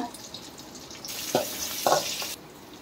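Chopped onion, panch phoron, crushed ginger-garlic, green chilli and a bay leaf hit hot oil in a wok, with short bursts of sizzling and stirring among quieter background sounds.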